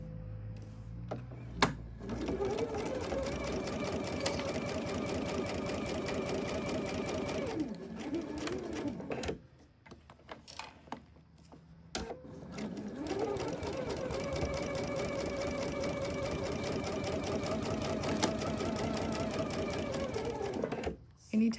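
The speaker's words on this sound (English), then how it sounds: "we're going to go ahead and baste around that inner lining at the specified" A sewing machine bastes around an inner lining in two long, steady runs of rapid mechanical stitching, with a brief pause between them and a short stop at the end, loud and close.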